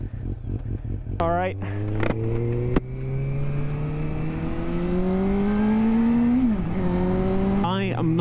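A motorcycle being ridden and shifted into gear, its engine droning steadily and rising slowly in pitch with a brief dip near the end, close and loud, with sharp clicks early on and a person speaking briefly.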